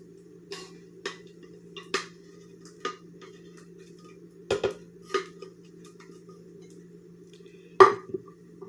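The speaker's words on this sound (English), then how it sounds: "Then I'm going to add 1 can of tomato soup." A can of tomato soup being added to a hamburger casserole, heard as a handful of sharp metallic taps and clinks spaced out over a steady low hum, close and fairly quiet.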